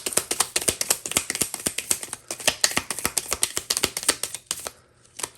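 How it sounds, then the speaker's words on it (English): A large, newer deck of tarot cards is shuffled close up, giving a rapid run of crisp papery taps and riffles that stops briefly near the end. "There's so many, so it's just like really hard to shuffle."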